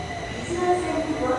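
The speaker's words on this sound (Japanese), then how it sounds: "2番線に到着の電車は第一行きです。" Osaka Metro Tanimachi Line train arriving at Moriguchi Station, a steady rumble of rolling wheels with faint metallic squeals as it moves along the platform.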